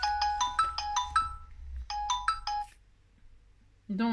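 A phone ringtone plays up close as two quick bursts of bright, repeating electronic tones separated by a pause, and a short sound cuts in at the very end.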